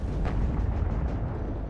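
Howitzer artillery fire in the WARNO strategy game: a steady rumbling wash of distant booms, low and continuous, with one brief sharper burst early on and no voices.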